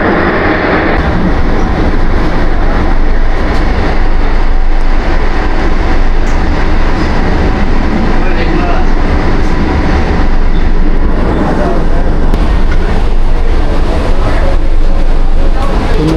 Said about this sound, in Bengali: আমরা এখন আন্ডারগ্রাউন্ডের ভিতর দিয়ে ক্রস করছি এখন